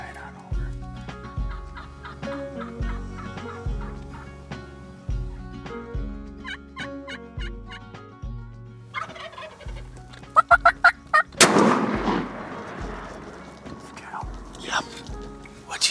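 A wild turkey gobbles repeatedly during a hunt, loud rattling calls rising in short bursts among soft whispering voices, followed by a sudden sharp gunshot blast and rustling.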